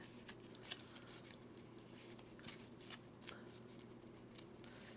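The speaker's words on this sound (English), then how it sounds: "we're just going to shuffle these back by cutting" Pokemon trading cards shuffled by cutting the deck, soft quick riffling flicks and slaps in irregular bursts, very close and quiet.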